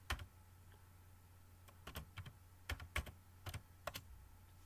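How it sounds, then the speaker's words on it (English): Computer keyboard being typed on to enter a terminal command on an Ubuntu system, a dozen or so quiet crisp clicks in small irregular clusters over a low steady hum, no talk. "We will type G++"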